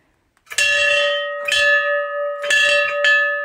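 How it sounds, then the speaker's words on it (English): A hand bell is rung four times close by, each bright metallic strike ringing on and overlapping the next, with no talking. "So I'm going to ring this bell for everything I love."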